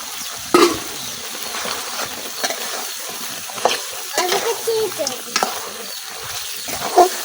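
Beef being braised with potatoes is stirred in a pan, with repeated spatula scrapes over a steady frying sizzle and no talk.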